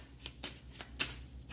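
Tarot cards being shuffled close up, a quick series of soft riffling flicks and snaps, quiet and alone.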